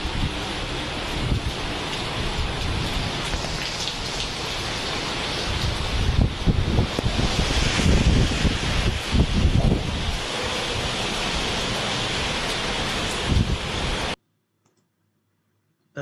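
Hurricane storm wind with rain roaring as a dense, continuous wash that gusts louder in the middle, then drops to silence near the end.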